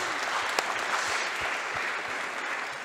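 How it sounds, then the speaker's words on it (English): An audience at a longevity medicine conference session applauds a presenter named Eva, with a dense, sustained wash of clapping from many hands throughout and no one speaking over it. "A warm applause, or a big applause, not a warm applause, but a big applause for Eva."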